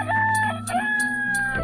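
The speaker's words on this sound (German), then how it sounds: "Der Hahn kräht wieder." A rooster crows repeatedly in the Towns video game, clear bright calls rising and holding in a steady sequence over a low ambient hum, with no voices present.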